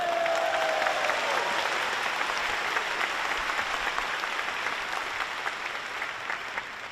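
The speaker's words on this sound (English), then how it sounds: "Everybody give a round of applause to my mom and dad." A large audience at an AI computing keynote applauds the presenter's parents: a loud, dense, steady wash of clapping that carries on throughout, with a brief whistle near the start.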